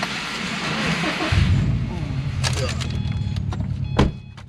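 A Subaru STI fires up for a test drive: after a second of low background noise, the engine catches with a deep rumble and settles into a steady idle, punctuated by a few clicks and a brief knock near the end.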